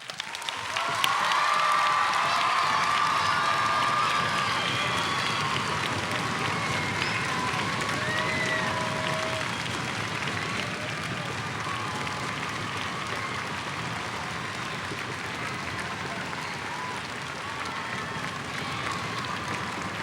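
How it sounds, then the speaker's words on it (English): Audience applause and cheering at a school district choral festival as elementary-through-high-school vocal music teachers stand, a long, steady wash of clapping with a few whistles and shouts, loud at first and easing slightly midway. "would you please all stand and receive some applause?"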